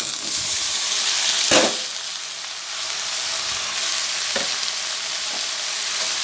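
Onions sautéing in a pan for an amaranth greens stir-fry: a steady close sizzle with a sharp stir or scrape near the start and fainter stirring knocks later.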